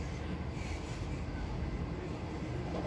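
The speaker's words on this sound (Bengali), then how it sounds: "খুর্দার থেকে ছাড়ার পর কি স্পিডে চলছে দেখো বন্দে ভারত।" Vande Bharat Express runs at speed between Khurda and Bhubaneswar, heard from inside an AC chair car as a steady, dense, even rumble and rushing hiss with no distinct events.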